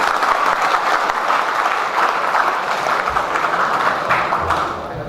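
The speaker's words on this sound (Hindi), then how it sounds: "एक बार जोर से हम सब ताली बजबैए।" A large audience applauds steadily at the Janakpur International Film Festival in Janakpurdham, a dense wash of clapping that carries on without pause and eases slightly at the end.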